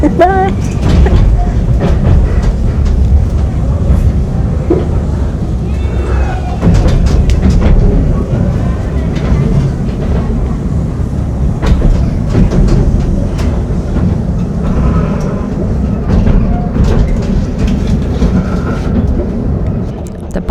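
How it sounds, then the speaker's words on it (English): A narrow gauge train on the Bala Lake Railway in Wales rumbles steadily along the rails with clicking and clattering, loud and close, while people talk over the noise. "We're on the train."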